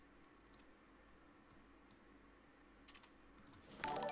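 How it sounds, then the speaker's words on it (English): Fingers type on a computer keyboard in a quiet room, giving faint, sparse clicks at an uneven pace, with a slightly louder rustle at the end. "oh, I'm typing"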